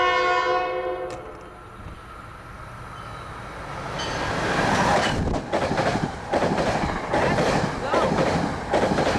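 A fast train approaches and sounds its horn, a long drawn chord, then rushes past loudly with rhythmic clattering wheels and roaring wagons.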